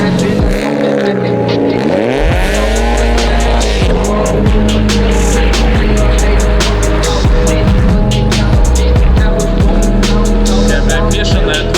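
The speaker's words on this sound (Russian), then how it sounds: "у нее дикий звук, конечно. Аж уши закладывает, да?" VAZ 2102 drift car with a straight-pipe exhaust and no mufflers, revving very loudly and repeatedly in rising and falling sweeps with a harsh crackling roar, close up and continuous throughout.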